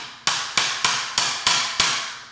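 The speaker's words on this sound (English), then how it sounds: "And then we're gonna hammer it in." Six sharp hammer strikes drive an eyelet into a honeybee comb frame, evenly spaced about a third of a second apart, close and loud with nothing else around them.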